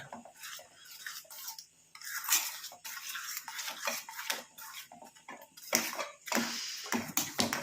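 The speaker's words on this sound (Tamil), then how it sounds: "நல்லா கலந்து விட்டுக்கலாம்" A spoon stirs a thick mixture in a pot on a switched-off stove, giving quiet, irregular scraping and clinking strokes close by.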